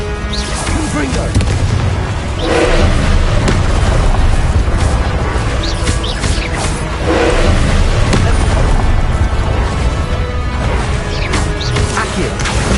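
Confringo blasting spell explosions in Hogwarts Legacy: loud, dense combat with repeated booming impacts and crashing hits over a constant roar, with a few stronger bursts standing out, while someone speaks over the fighting.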